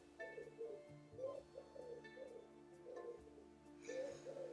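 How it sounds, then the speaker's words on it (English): A pigeon coos quietly in the background, giving a series of soft, low, repeated coo phrases spread across a few seconds, with no talking over it. "I don't know if you can hear is that pigeon singing?"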